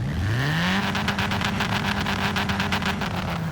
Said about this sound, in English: It's mental sounding just on the actual rev limiter.